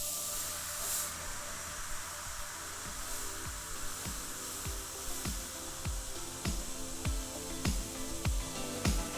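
A Paasche Talon airbrush running at 20 psi gives a steady, even hiss of spray with no break, heard up close under a faint background of regular ticking.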